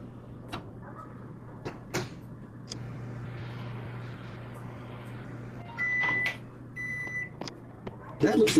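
A microwave oven in the Job Simulator video game hums faintly and steadily, with cupboard-like door clicks and knocks scattered throughout and a couple of short electronic beeps toward the end.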